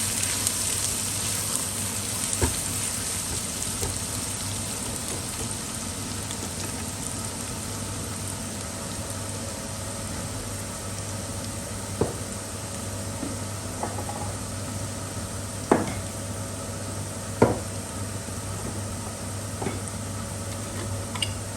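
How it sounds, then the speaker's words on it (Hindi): Garlic ginger paste fries in a pan with a soft, steady hiss. Occasional sharp clicks from stirring sit over a low background hum, and no one speaks. "और 1 टेबलस्पून गार्लिक जिंजर की पेस्ट ऐड कर देंगे। अब इसे भी थोड़ा सा भून लेंगे हम।"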